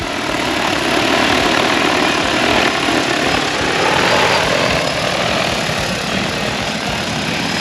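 A DJI Agras T20 agricultural spraying drone flies at a drone expo, its rotors producing a loud, steady broadband whirring roar that swells and eases slightly as it moves, with no voices.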